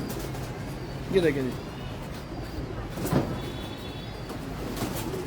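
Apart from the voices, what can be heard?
slate-grey pigeons cooing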